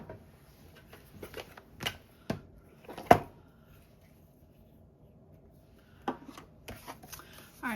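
Scissors snip and rustle through scrap advertising paper being cut into cards, giving soft, sporadic crisp snips and rubbing sounds, close and quiet with pauses between.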